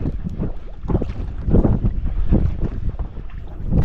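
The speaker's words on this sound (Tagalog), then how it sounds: "malakas yung hangin" Strong wind gusts buffet the microphone on a small boat out at sea during a fishing trip, a loud, uneven roar that surges and falls with no voices.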